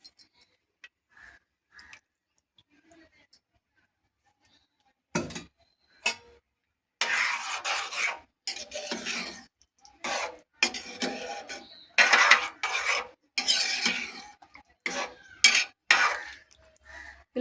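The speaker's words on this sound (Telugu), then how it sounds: "ఈ మిగిలిన పెరుగును కూడా యాడ్ చేసుకుందాం." Yogurt is stirred into a pan of bottle gourd curry, Andhra style, with the stove off, heard as irregular scraping and rubbing strokes of a spoon against the pan, close and fairly quiet, in bursts after a near-silent start.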